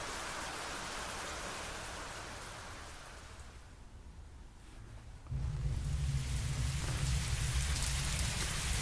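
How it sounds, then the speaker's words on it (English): Rain pours steadily, eases briefly, then suddenly grows into a much heavier, louder downpour with a deep roaring rush. "The rain had begun to intensify."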